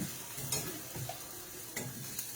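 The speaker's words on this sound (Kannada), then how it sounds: "ಬೆಣ್ಣೆ ಜೊತೆ ಪನ್ನೀರ್ ಚೆನ್ನಾಗಿ ಫ್ರೈ ಆಗ್ತಾ ಇದೆ." Paneer frying in butter in a pan, a soft continuous sizzle with a few light stirring clicks and scrapes, fairly quiet and close.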